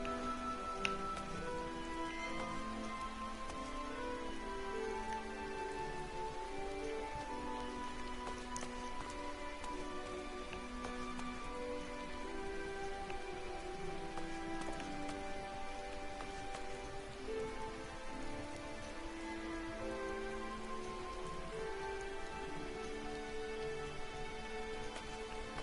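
Steady rain from the video game Final Fantasy XIV patters continuously on a surface for a long stretch, with faint tonal background music underneath and no voices.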